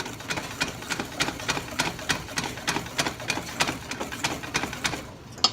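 Swiss meringue buttercream being whisked by hand in a bowl, a steady rhythmic series of quick ticking strokes at moderate volume.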